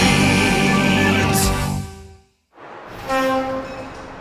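A diesel locomotive on a mountain railway sounds its horn, loud sustained tones that cut off briefly and then return, with rumbling train noise beneath.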